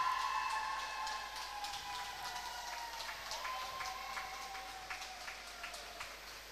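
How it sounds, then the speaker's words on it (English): Faint cheering and applause drift over from other pools at an underwater hockey championship, a distant crowd murmur with scattered bursts under ringing whistle-like tones in a reverberant hall. "you can hear the cheering of the other pools."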